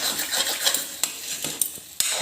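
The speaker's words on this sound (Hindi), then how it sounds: "हल्दी को इस अदरक के साथ अच्छे से मिक्स करके इसे भी भूंजने देंगे" Turmeric and ginger being roasted in a pan, heard as a soft sizzle with a few sharp metallic clinks and scrapes of a spoon stirring against the pan.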